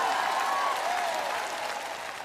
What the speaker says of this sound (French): Vous feriez aussi bien d'applaudir et de crier.